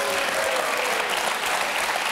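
Applause from a studio audience on a French evening talk show, a steady dense clapping that fills the whole stretch without a break.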